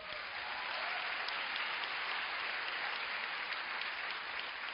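A room full of attendees at a leadership event applauds international guests, an even, sustained wash of clapping from start to finish, somewhat muffled and dull in tone.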